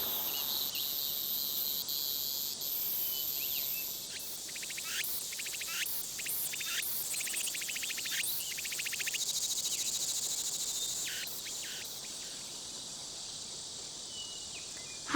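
Continuous high-pitched cicada song fills the air, steady trilling with bursts of pulsed buzzing calls rising over it, moderately loud and unaccompanied by voices.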